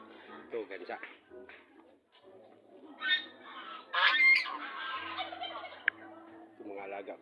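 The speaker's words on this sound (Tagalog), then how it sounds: "Ito mga alaga ko din. Gansa." Domestic geese kept by their owner honking and gabbling nearby: several loud, harsh calls in irregular bursts, with someone talking intermittently between and over them.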